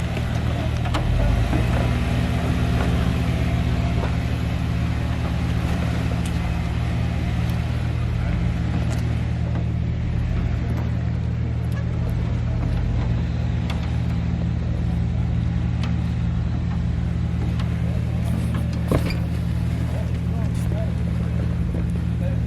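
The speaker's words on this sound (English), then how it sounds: "Mary, back it up." A Jeep crawls over a rock slab on a forest trail and backs up, its engine holding a steady low idling rumble with a faint drone throughout, close and continuous with no clear revving.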